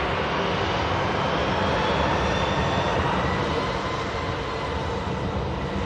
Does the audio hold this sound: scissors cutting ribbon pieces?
no